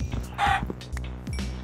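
Chickens in the Minecraft video game cluck in short repeated bursts, with one brief higher squawk, close and clear with no talk.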